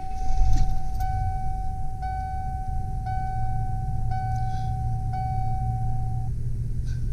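A 1998 Ford E450 Gulf Stream Ultra 30 ft motorhome engine cranks briefly and catches, settling into a steady idle while a warning chime beeps repeatedly in a regular pattern.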